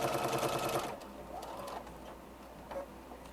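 A sewing machine stitching an egg apron whirs briefly at close range for about a second, then stops and leaves faint handling noises.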